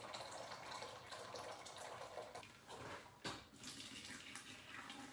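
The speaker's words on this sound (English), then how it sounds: "I'm gonna add my sparge water" Sparge water, 13.5 liters, pours into a Grainfather all-in-one brewing system, a steady close rushing splash of water filling the vessel, continuous throughout with slight surges and no talk.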